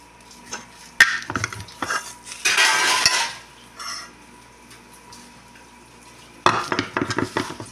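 Food sizzles and clatters in a frying pan in a home kitchen, with utensil scrapes, metallic clinks and a loud bursting sizzle, heard in irregular close bursts between quieter moments.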